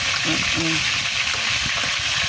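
Food frying in hot cooking oil in a pan, a steady close sizzle running the whole time with a brief voice over it near the start.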